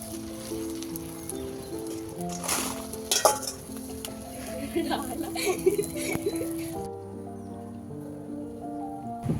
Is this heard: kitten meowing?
no